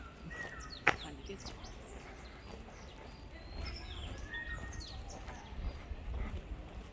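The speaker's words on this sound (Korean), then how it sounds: "새소리가" Scattered bird chirps and whistles from a distance on a hillside trail at Achasan mountain in Seoul, mixed with outdoor background noise and a sharp click near the start.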